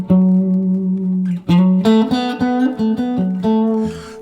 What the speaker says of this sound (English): The first thing I like any overdrive pedal to do is to get a good clean